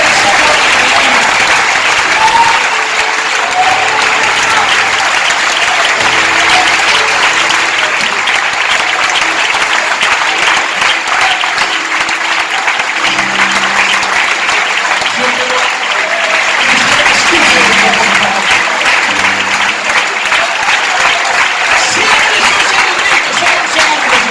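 A church congregation gives sustained, loud applause during an evening service, a continuous roar of many hands clapping for the full stretch, with voices mixed into the crowd noise.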